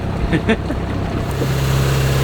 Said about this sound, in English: I am down below, and the engine is at cruising RPM